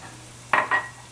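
Mushrooms hitting a hot pan with garlic and shallots, two quick bursts of sizzle and stirring scrape close by, otherwise quiet.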